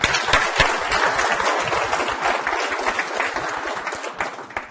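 A small seminar audience at a hypnosis demonstration gives a close, lively round of applause, distinct individual claps in a dense flurry that tapers off toward the end.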